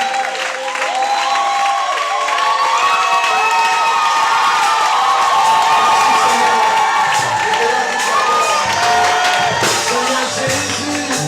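A church congregation cheering and shouting loudly in praise of Jesus, a dense continuous roar of voices with whoops, clapping and high cries, sustained and energetic for the whole stretch.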